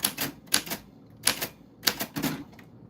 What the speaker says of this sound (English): I type everyone's name.